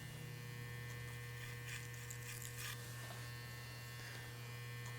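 Electric hair clippers tapering a slicked-back haircut hum with a steady, continuous buzz, close and fairly quiet, with faint brushing of the blade through hair and no talking.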